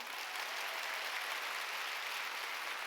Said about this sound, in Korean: 하나님께 크게 박수치세요